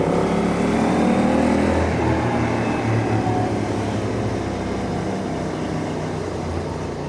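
A steady Honda Hawk 11 motorcycle engine drone on a mountain pass holds throughout, loud and continuous with slight shifts in pitch as the throttle changes, with no voices.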